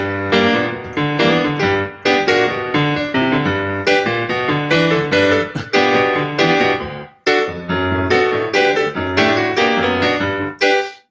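Piano plays a New Orleans rhumba style tag, loud rolling chords and syncopated bass in repeated bouncy phrases, with a brief pause before the pattern resumes, no talking.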